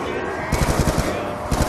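Rapid automatic gunfire in a zombies video game, loud bursts of fast repeated shots close up, pausing briefly before another burst.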